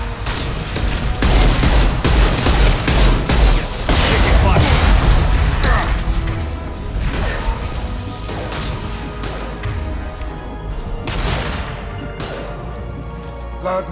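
Impact shot weapon fire in Mass Effect 2 bangs in a rapid run of loud, sharp cracks and crashes, with battle clatter and voices speaking over the fighting.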